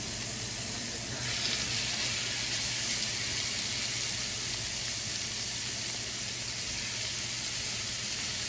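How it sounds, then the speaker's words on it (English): Canola oil sizzles in a reheated pan being readied for chicken: a steady, close frying hiss that brightens a little after the first second and continues evenly, with no talking. "Hear that little sizzle?"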